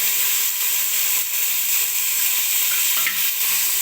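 Peas and carrots frying with onions in a pan give off a steady, close sizzle, with occasional stirring scrapes and no talking.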